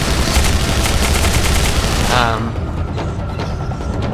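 Rapid machine gun fire from Tribes: Ascend rattles loudly for about two seconds, then gives way to quieter game sounds and faint activity.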